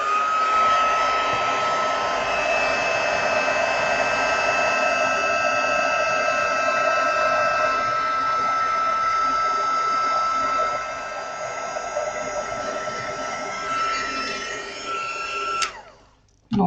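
A heat embossing gun blows steadily on paper butterflies for a pop-up card, a loud continuous whirring hiss that dips slightly partway through before switching off with a click near the end.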